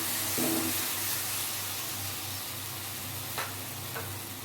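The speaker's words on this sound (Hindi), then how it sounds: "पेस्ट को हल्का भून लिया है।" Besan paste roasting in a pan for a potato curry gives a steady close sizzle with soft stirring scrapes throughout, and a couple of brief sharper scrapes near the end.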